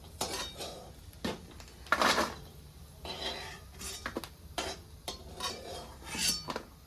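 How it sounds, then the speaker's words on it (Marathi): Roasted coconut, cooked to a reddish brown, scraped out of a pan onto a plate: a quiet, close series of metal spatula scrapes and clinks against the pan and plate, in irregular bursts, with no voices. "खोबरं चांगलं लाल झालेलं आहे तर मी ह्याला एका ताटात काढून घेते"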